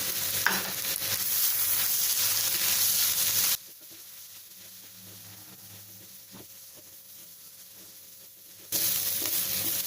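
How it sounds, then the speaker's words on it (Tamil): Broad beans fry in a pan while chili powder is stirred through them, giving a loud steady sizzle with scraping stirs, then a quieter stretch of softer crackling before the strong sizzle returns. "மிளகாத்தூள் போட்டோன்னே நல்லா மிக்ஸ் பண்ணி விட்டுட்டு இந்த அவரைக்காவை அப்படி ஓரமாக தள்ளி வச்சிடலாம்."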